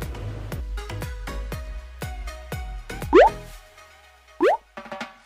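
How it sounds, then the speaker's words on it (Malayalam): Raw chicken pieces mixed by hand with Kashmiri chili powder, salt and turmeric, no water added, giving a close run of soft, wet plops and squelches with a couple of brief rising squeaks. "എല്ലാം മിക്സ് ചെയ്തെടുത്തു."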